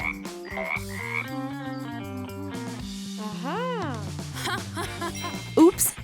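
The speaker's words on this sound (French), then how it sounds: "Maintenant, tu coasses." Cartoon frog croaking in an animated kids' skit: a run of bubbly, pitched croaks mixed with playful jingling sound effects and bright musical tones.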